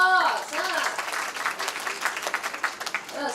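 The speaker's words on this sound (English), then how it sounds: "Give her a round of applause." A classroom of students applauds, bursting into loud, close clapping that softens and then continues in irregular claps, with a voice speaking briefly at the start.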